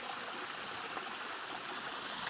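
Steady rush of a small waterfall cascade at a natural water spot, continuous broadband splashing and flowing water, fairly close, with no voices.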